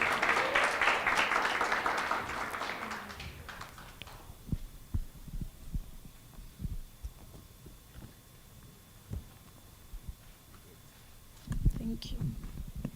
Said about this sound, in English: Let us clap hands as she comes to the front.